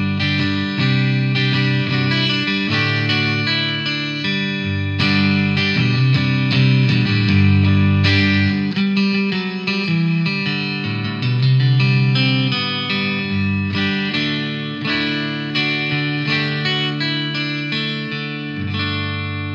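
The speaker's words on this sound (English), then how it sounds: "it gets a really great acoustic guitar sound through an electric guitar amp" An Epiphone Ultra 2 Les Paul electric guitar played in its acoustic-style voice through an electric guitar amp, strummed chords and picked notes ringing continuously and fairly loud with a chorus-like shimmer, no voice.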